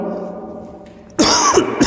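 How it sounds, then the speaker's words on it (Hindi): A single sharp cough bursts out after a quiet stretch of low, faint room sound, followed by a second smaller cough, close and loud. "खांसी हो रही है थोड़ी।"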